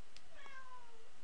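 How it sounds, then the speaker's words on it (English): A single short, high-pitched kitten meow, fairly quiet and heard alone in a still room. "Well-timed meow."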